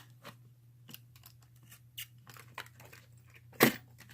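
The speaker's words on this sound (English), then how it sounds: "Using a box cutter." A box cutter slices and tears at the packaging of a Brinks brass padlock, model 161-42001, making scattered soft scraping and crinkling cuts with one sharp, loud crunch near the end and no talking.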